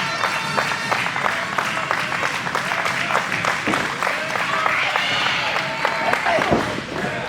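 A wrestling crowd at a New South Wrestling Action Clash show cheers and claps around the ring, a busy roar of clapping and shouts that swells and dips, with commentary and scattered voices running over it.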